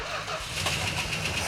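Plymouth Superbird engine after 15 years of sitting: a loud, steady rumble of an engine catching and running, with rhythmic firing pulses and no gaps.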